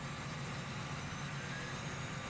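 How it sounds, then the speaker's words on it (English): A tractor engine in Farming Simulator 17 idles with a steady, low, continuous rumble and no change in pitch, quiet and alone. "I know this can be a noisy tractor"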